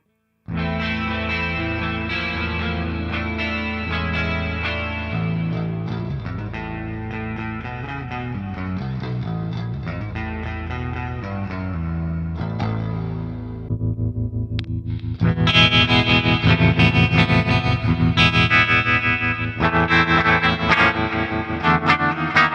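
A Solar GC1.7 FBB electric guitar plays continuously through heavy effects, shifting partway through to a harsher, more saturated distorted tone with rapid strummed chords.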